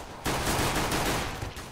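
Gunfire in a Counter-Strike match on de_inferno, a dense volley of rapid shots that bursts in abruptly and keeps up a loud, continuous crackle for over a second.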